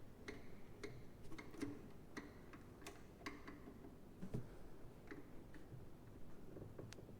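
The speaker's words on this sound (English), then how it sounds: "just get it started by hand, and then you can get your ratchet on it or socket" Socket ratchet clicking while tightening a coil pack bolt on a 1999-2004 Mustang GT engine, a run of quick, light ticks in uneven bursts, close and fairly quiet with no talk.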